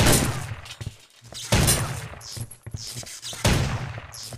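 OICW rifle fire in the video game Soldier of Fortune 2: three sharp bursts of rapid gunshots at roughly even intervals, each followed by a brief ringing decay.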